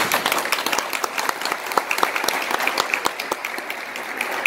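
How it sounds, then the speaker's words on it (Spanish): Crowd applause at a community gathering in Las Guáranas welcoming the national director of INAPA, dense rapid clapping sustained for the whole stretch at steady strength with no voices over it. "y eso merece un fuerte aplauso"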